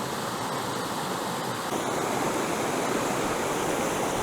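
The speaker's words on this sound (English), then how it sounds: "I hope you can hear me over the sound of the running water" A Glencoe waterfall in the Scottish Highlands pours in a steady, loud broadband rush of falling and running water, unbroken from start to finish with no voices over it.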